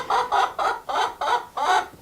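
A chicken clucks close by in a quick series of about six rhythmic, throaty calls, each one short and evenly spaced.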